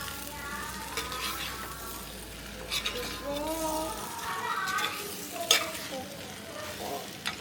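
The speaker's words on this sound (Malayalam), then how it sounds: "എല്ലാം കൂടെ മിക്സ് ചെയ്ത് വീണ്ടും ഇളക്കാം നമുക്ക്." Egg and potato gravy is stirred in a pan, with repeated scraping strokes and a mild sizzle running underneath while a person speaks and children's voices sound faintly in the background.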